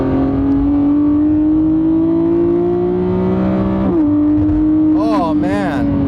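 A Lamborghini Revuelto V12 engine with a dual-clutch transmission revs in sport mode, warmed up, holding a rising drone, dipping briefly, then climbing in a few sharp throttle blips near the end, loud and close.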